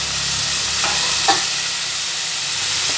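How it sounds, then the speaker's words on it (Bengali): Pointed gourd and chhana curry with spices sizzles steadily in a pan, a close, even frying hiss with a brief stirring scrape midway. "সব মিশিয়ে একসঙ্গে ভাজা হচ্ছে"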